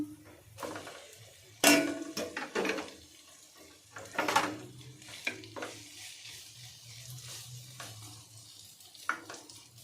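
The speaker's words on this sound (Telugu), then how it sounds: "పాస్తా యాడ్ చేసిన తర్వాత బాగా అయితే మిక్స్ చేసుకోవాలి" Pasta being stirred through a sauce in a hot pan, with a steady sizzle under bursts of scraping and clattering from a spoon against the pan, close and moderately loud.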